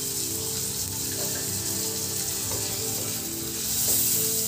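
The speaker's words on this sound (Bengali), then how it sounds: "পেঁয়াজ আদা রসুন টমেটো ভেজে নিতে হবে" Onion, ginger, garlic and tomato fry in a pan with a steady, loud sizzle, a continuous hiss broken by light stirring scrapes, with no voices.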